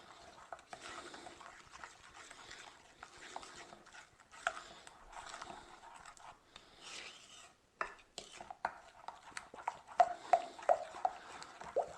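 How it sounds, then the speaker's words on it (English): A utensil scrapes and clinks against a bowl while sugar is stirred into liquid donut ingredients, a quiet, uneven scraping that grows into sharper rhythmic taps toward the end. "And you just want to stir them together."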